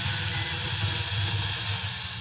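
An MJX 103 drone holds a steady, loud, close-up whine with a high-pitched buzz from its motors. No voices are heard.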